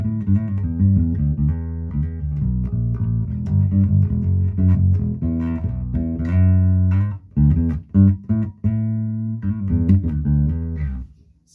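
A Schecter Riot bass fitted with an EMG PA5X P-bass style neck pickup plays a steady run of plucked notes and short riffs. The tone is close, full and round, with brief gaps near the end and no talking.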